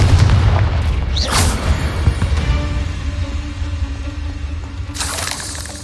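A Confringo explosion spell goes off in a video game, a loud burst with crackling debris and a low rumble, then a second blast near the end over steady game ambience.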